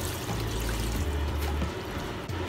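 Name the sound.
pouring cold water over abacha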